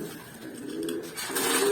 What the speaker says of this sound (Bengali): দেখাইতেছি একজোড়া স্পেশাল কবুতর,